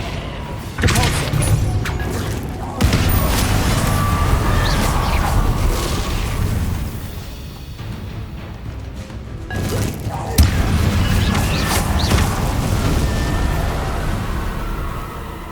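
Spell combat in Hogwarts Legacy, the Depulso force-push spell cast amid repeated booming thumps and crashing impacts over game music and effects, with a voice speaking over parts of it.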